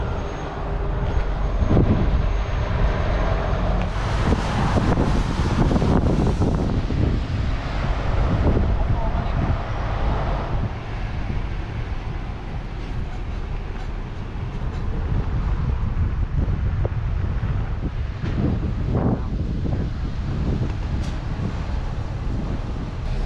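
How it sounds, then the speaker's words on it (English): Strong wind roars and buffets the microphone continuously, a loud rumbling gusting that swells and eases over the whole stretch. "it is windy."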